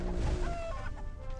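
A hen clucks and squawks in the video game What The Hen, loud and close over busy game sound effects, lasting about a second and a half.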